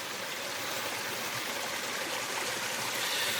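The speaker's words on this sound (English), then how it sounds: "We always gravitate towards waterfalls. Here's a little one, or a little spring." A small waterfall or spring trickles on a hike in the Cambrian Mountains, giving a steady, soft rushing of running water with no break and no voices.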